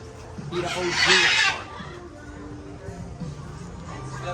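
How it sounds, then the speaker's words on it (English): A loud, harsh squawk from Amazon parrots, including a yellow-fronted Amazon, bursts out near the start, followed by quieter calls and background chatter. "these birds are noisy as hell"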